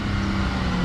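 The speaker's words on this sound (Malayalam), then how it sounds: "ഇതിപ്പോൾ V6 എഞ്ചിനകത്ത് കുറച്ചുകൂടെ മഫിൾഡ് ആയിട്ടുള്ള സൗണ്ട് ആട്ടോ വരുന്നത്" A Dodge Challenger with a V6 engine idles with a steady, muffled low rumble, close and continuous with no talk over it.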